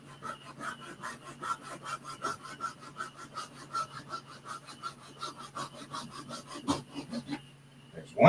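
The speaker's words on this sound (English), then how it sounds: "I got this little teeny micro hacksaw for this very job." A tiny micro hacksaw makes quick, even back-and-forth rasping strokes, close and moderately quiet, with a low steady hum underneath and a pause near the end.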